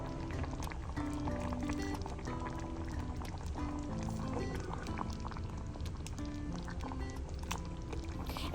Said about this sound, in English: we're going to let it simmer for about 30 to 35 minutes until it thickens up quite a bit